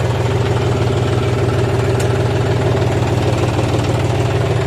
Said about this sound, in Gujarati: આજે આપણે હાંકવા જવાનું હે ટ્રેક્ટર ને, ડીઝલ ભરી લીધું હે